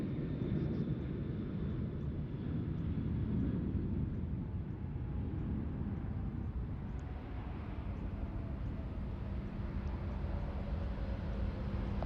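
Domestic airliners taxi along a taxiway at Sydney Airport, a steady distant jet engine rumble and whine that holds at an even level throughout with no voices.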